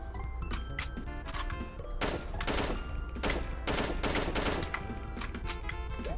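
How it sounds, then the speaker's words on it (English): Rapid bursts of gunfire from a first-person shooter game, The Golden Souls Remastered, crackling in repeated volleys over a steady background of game music and ambience. "The gun still seems pretty loud"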